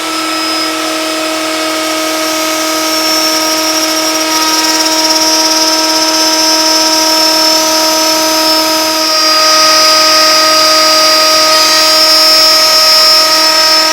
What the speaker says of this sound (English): I'm going to plunge this down and lock it, and then I'm just going to go real slow to the other side of the board